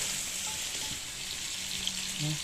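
Squash simmering in coconut milk for Mangyan-style ginataan gives a steady soft bubbling sizzle, close and continuous, with no talk.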